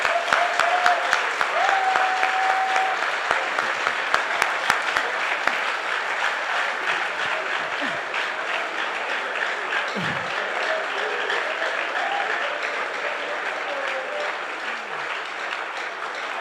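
Sustained applause from a large audience at a training event, steady and dense for the whole stretch with scattered sharp claps standing out near the start and a faint voice or two underneath.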